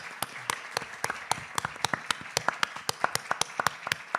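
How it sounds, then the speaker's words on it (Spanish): A small audience at a philosophy round-table on posthumanity claps for the panel, giving steady, evenly spaced hand claps for about four seconds with no talk over them. "Un aplauso para ellos."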